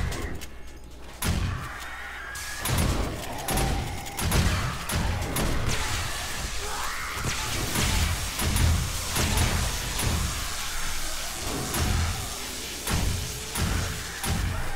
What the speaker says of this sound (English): So that shotgun turret is doing damage to them.